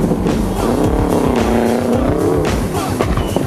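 A Subaru Impreza Group N rally car drives at the 2002 Rally of the Lakes, its engine loud and close with rising and falling revs and tire noise throughout.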